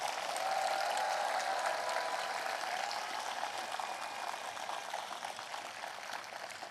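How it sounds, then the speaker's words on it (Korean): An audience at a memorial ceremony for late President Roh Moo-hyun claps in sustained, dense applause, loud at first and slowly tapering, with no voices over it. "마음을 다해 큰 박수로 응원 부탁드립니다"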